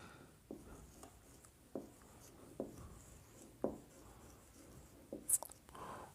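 Marker or chalk strokes writing on a board during a lesson on restriction enzymes, a series of short, quiet scratchy strokes spaced about a second apart in a hushed room.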